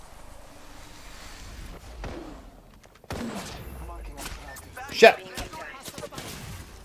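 Apex Legends battle gunfire, with scattered shots and a sharp crack or impact near the middle, sits among game sounds and close player talk and exclamations, moderately loud.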